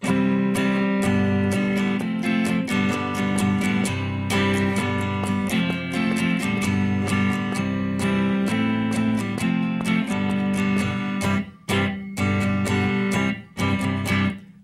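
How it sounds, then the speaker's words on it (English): A guitar strums chords in a steady, even four-beat pattern with crisp strokes, playing alone and fairly loud, pausing briefly near the end. "Musicians refer to this feel as a straight-ahead 4/4 strum"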